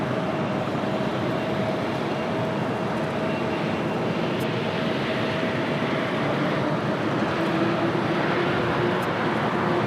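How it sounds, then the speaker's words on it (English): A Delta A350 airliner taxiing at LAX gives a steady, continuous engine roar with a faint whine, heard from a distance and holding an even level throughout. "Delta A350 making that left-hand turn onto taxiway Bravo."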